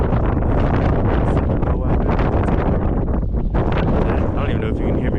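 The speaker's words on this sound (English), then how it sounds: "I don't even know if you can hear me because of this wind." Heavy wind buffets the microphone outdoors on a desert road near Monument Valley, a loud continuous roar and rumble that swamps a voice talking underneath it.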